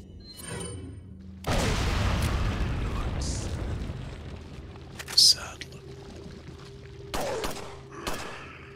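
A grenade explodes in Resident Evil 4, a loud boom followed by a long rumbling decay, with a few sharp game sounds afterward and a voice talking faintly in the background.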